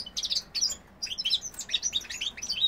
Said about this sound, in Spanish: Mirad, qué alegría tiene un pájaro